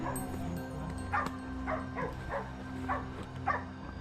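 Hunting dogs chasing a wild boar, several sharp distant yelps and barks in an irregular series over a low steady background hum.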